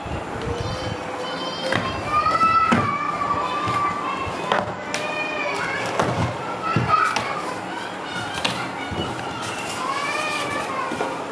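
A young child cries and wails in a room at home, mixed with other children's voices, adult talk and occasional thumps.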